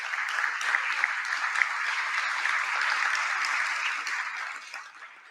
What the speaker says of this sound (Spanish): pido que los saludemos y las saludemos con un afectuoso aplauso